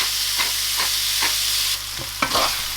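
Ground meat frying in a pan for bolognese sauce, with a steady sizzle under repeated scraping and stirring strokes, close and fairly loud.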